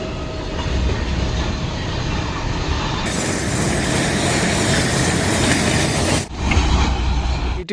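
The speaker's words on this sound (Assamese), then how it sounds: "ট্ৰেইন আহিছে এখন ৱাও" A train rumbles past close by at Dhupdhara rail station in India, loud and continuous with rattling wheels, before the sound abruptly cuts off.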